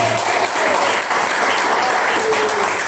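Steady applause from a church congregation praising Jesus during an evangelical sermon, a dense continuous wash of clapping hands that fills the room evenly from start to finish.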